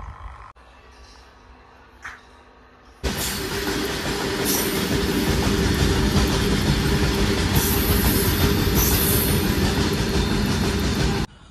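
After a quiet start with a faint voice at Papatapalli station, a MEMU express train suddenly bursts in close and loud, rumbling and clattering steadily along the rails.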